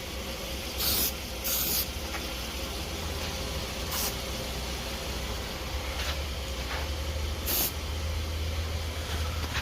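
Aerosol anti-rust coating sprayed onto exposed bare metal on an S14 during a rear overfender install, heard as several short, close hissing bursts separated by pauses over a steady low background hum.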